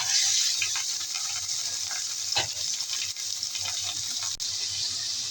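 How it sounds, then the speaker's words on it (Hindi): Chopped onions sizzle and crackle steadily in a hot pan with chicken organs, a close, continuous frying hiss with occasional louder pops and stirring scrapes. "2 से 3 मिनट हो चुके हैं प्याज को फ्राई करते हुए"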